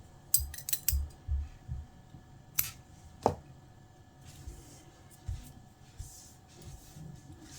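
Scissors cut crochet yarn close up, a quick cluster of small metallic snips followed by a few scattered clicks and soft handling noises in a quiet room.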